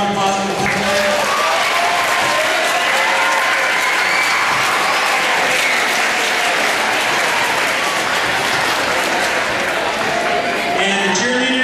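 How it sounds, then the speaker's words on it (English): A high school football crowd claps loudly and steadily for a band, with dense, continuous applause sustained throughout and faint crowd murmur mixed in. "Everybody get a give a round of applause for Pep Pan."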